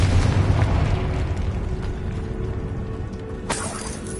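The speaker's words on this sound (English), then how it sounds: "Confringo!" A Confringo fire spell explodes in the Hogwarts Legacy video game, opening with a loud booming burst that rumbles and fades, then a sharp crackling hit near the end, with no speech over it.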